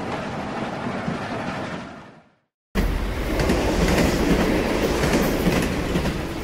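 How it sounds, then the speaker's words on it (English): A high-speed rail train rushes past loud and close, with a roaring wash and rhythmic clickety-clack of wheels that fades out, breaks off, then returns at full force. "Higher speed rail."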